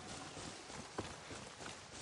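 Horse hooves clip-clopping in the video game Far Cry 6, a steady walking rhythm of soft thuds at moderate distance, heard alone without talk.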